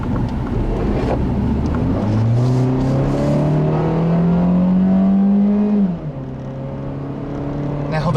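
A 2005 Honda Civic with a 4-speed automatic drives along a road, its engine note rising steadily through a gear and then dropping at a shift, under heavy road and wind noise, with a voice talking over it.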